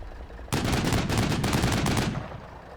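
A sudden, loud burst of rapid gunfire and artillery barrage in the war game Combat Mission: Shock Force 2, a dense rattle of overlapping shots lasting about one and a half seconds before fading out.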